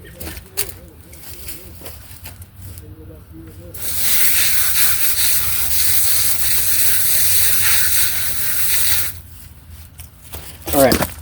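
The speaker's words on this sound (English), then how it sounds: "Alright, it's sprayed off with the water hose." A water hose sprays off a wheel cleaning brush with a loud, steady hissing rush that lasts about five seconds. Someone talks before and after the spray.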